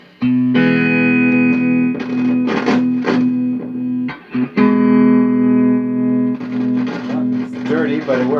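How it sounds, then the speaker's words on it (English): An electric guitar plays through a vintage Yamaha G50 210 amp with tremolo engaged, its held chords pulsing in volume, with strummed bursts and a slightly dirty tone. "This amp has tremolo,"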